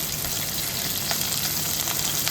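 Chopped onion hits hot oil already holding dal, mustard seeds, curry leaves and green chillies in a pan for vangibath, giving a loud, steady, close sizzle throughout.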